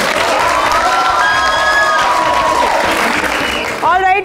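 A campus audience at a college show breaks into loud, sustained applause mixed with whooping cheers and whistles that carries nearly the whole stretch, then thins as a voice cuts in at the end.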